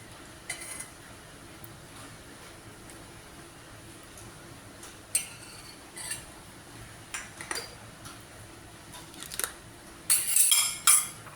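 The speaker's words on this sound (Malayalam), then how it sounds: "ഇനി നമുക്ക് കടുക് വറക്കാം" Mustard seeds frying in hot oil in a pan while making jackfruit dosa: sparse, faint pops and crackles that break into a brighter, denser burst of spluttering near the end, with no talking.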